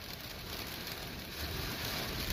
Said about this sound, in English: We are getting rain and hail at the same time.